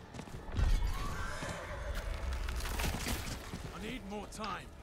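A horse in the video game Diablo 4 whinnies, with galloping hoof clatter and busy game effects. Someone talks over the sound.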